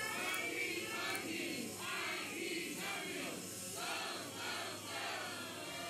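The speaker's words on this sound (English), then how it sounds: "they are cheering for this event" Crowd of camp participants cheering and shouting together at an outdoor opening ceremony of an international camp in Miaoli, a steady, fairly distant roar with rising and falling waves of voices.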